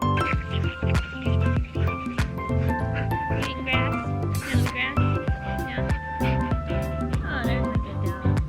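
Dogs bark, yip and whimper at close range in repeated sharp bursts, with people talking throughout.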